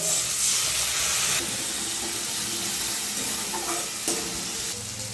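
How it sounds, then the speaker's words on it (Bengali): A spice paste of Kashmiri chili powder, chopped tomato and green chili frying in a pan with a little water, a steady sizzle with stirring scrapes and a couple of utensil knocks. "অল্প জল দিয়ে মশলাটা ভালো করে কষিয়ে নেব"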